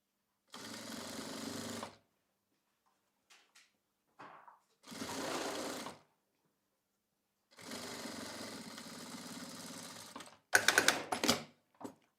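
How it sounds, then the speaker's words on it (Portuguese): A sewing machine stitches along the edge of a baby's hooded towel in several separate runs, some short and some long, with quiet pauses in between. A brief burst of faster clatter comes near the end. "Essa costura eu faço bem na beiradinha, então é momento de costurar mais devagar"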